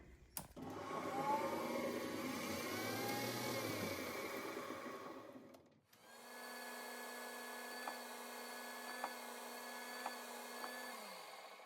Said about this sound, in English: What I'm doing first is drilling the hole. It's a 5/16 hole to braze the pipe into.